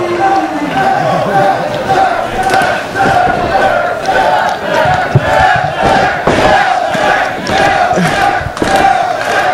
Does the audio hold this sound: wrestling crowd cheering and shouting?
yes